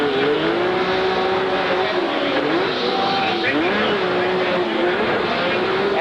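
A race car engine roars continuously from an on-board view during a 1994 MTEG race in Las Vegas, loud and steady with pitch rising and falling through gear changes and corners.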